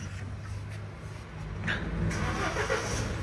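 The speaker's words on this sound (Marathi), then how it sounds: "पहिला सेल्फ मारू न्यूट्रल करून" A motorbike engine is self-started in neutral, loaded with luggage for a Ladakh mountain ride; a short starter crank catches into a steady, low idle that rises a little, heard up close.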